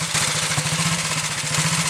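A 1929 AJS 500 motorcycle, freshly rebuilt, runs with a rapid, even thumping exhaust beat, close and loud, with a rough mechanical clatter over the pulses.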